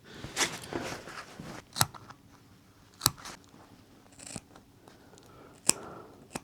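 Scissors snip through jacket fabric beside a zipper while a bomber jacket is being made, with a few sharp, separate cuts spaced out over quiet handling noise.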